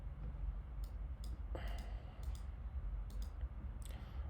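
Several light, sharp mouse clicks on a computer, spaced irregularly over a quiet room background.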